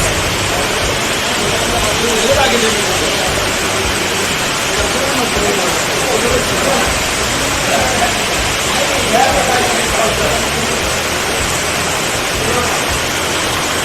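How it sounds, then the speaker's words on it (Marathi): Dense, steady rush of heavy night rain at Mahabaleshwar pouring down continuously, loud and unbroken, filling the whole scene like a broad hiss. "आता रात्र झाली, मरणाचा पाऊस."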